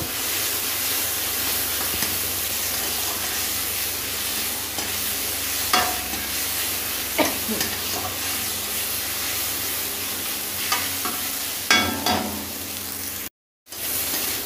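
Grated ginger fries in a pan for a vegetarian festive dish, giving a steady close hiss and sizzle with scattered stirring scrapes, then a brief cut to silence near the end.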